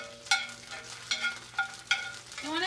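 Chopped garlic sizzles in oil in a hot pan as a spoon stirs it, with four crisp scraping strokes at a regular rhythm over a soft, steady fry.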